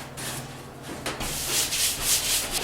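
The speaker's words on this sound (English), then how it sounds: "you'll want to make sure that the tub area and walls are swept up" Dry, scratchy brushing strokes sweep sheetrock dust from a new-construction bathtub area and walls, rhythmic and close, with no talking.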